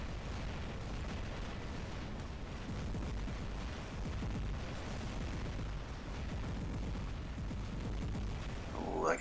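Plasma weapon fire in a robot combat video game, a dense continuous barrage of booming, rumbling blasts that stays loud throughout and ends with a rising burst.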